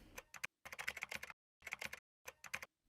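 Computer keyboard keys tapped in short quick bursts of clicky strokes separated by brief pauses, close and clear with no talking.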